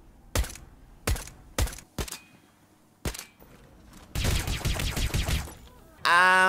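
Suppressed gunfire in a video game: a series of short, sharp muffled shots spaced irregularly, then a denser rapid burst, ending with a sudden loud tonal noise.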